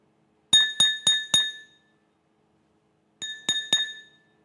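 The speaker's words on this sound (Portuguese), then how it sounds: "vamos ver os sons produzidos por esses diferentes recipientes de vidro" A small glass cup is struck repeatedly, ringing out in two bright clinking bursts, four quick strikes then three more, each tone decaying briefly in a quiet room.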